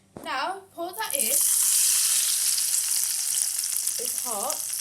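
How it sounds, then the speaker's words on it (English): Cumin and mustard seeds hit hot olive oil with a loud, sustained sizzle that holds steady to the end, with a voice speaking briefly at the start and again near the close. "Now we're adding our seeds, cumin seeds and mustard seeds."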